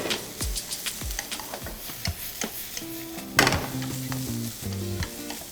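Shrimp, onion and bell pepper stir-frying in a pan for fajitas in a school cafeteria kitchen: a bright sizzle under repeated scraping strokes of a utensil, with a few tonal clinks and beeps toward the end.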